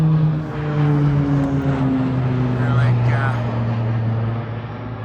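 A propeller airplane passes low overhead on approach to a nearby airport landing strip, its droning engine tone sliding steadily downward as it goes by, while a person talks close by.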